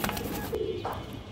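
Giribaz high-flyer pigeons coo softly and close by, a few low murmuring calls over a steady background hum.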